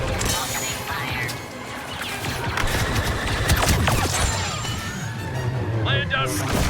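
Star Wars blaster gunfire rings out in a chaotic battle as a dense mix of shots, crashes and mechanical clatter, with voices calling out over the fighting.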